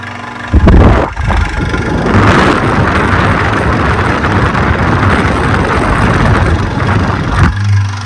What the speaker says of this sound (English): Noise is coming from the motor.